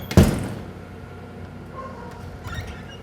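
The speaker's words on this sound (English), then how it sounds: "I'm going to go inside here and close the door" A house door swings shut with one sharp, close thud at the start, followed by a quiet room tone and a faint distant rattle.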